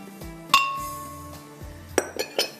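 Ingredients such as coriander, garlic cloves, dried chillies and mint leaves drop into a glass blender jar, giving several sharp glassy clinks and knocks spread unevenly, loud and close, with no talk.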